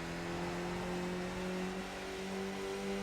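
Race car engine from the Skip Barber car at Bathurst in iRacing, held steadily in third gear: a continuous, even engine drone with a sustained pitch, moderately loud and alone, no voices.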